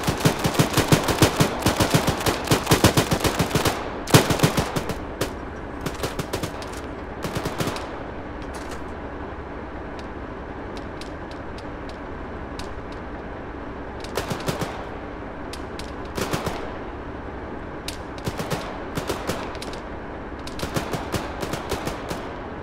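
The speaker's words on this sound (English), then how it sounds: "They're fucking firing at us." Machine gun fire in the video game Arma 3: dense rapid bursts at first, then shorter sharp volleys separated by pauses, loud and close.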